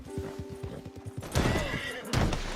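A horse in the video game Ghost of Yotei whinnies loudly over a steady clip-clop of hooves, then the galloping gives way to heavy thumping and rushing noise.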